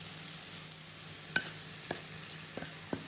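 Cooked pasta with a little oil is stirred in a pan over a faint steady sizzle. A few sharp scrapes and clinks of the utensil come at irregular intervals, with no talk.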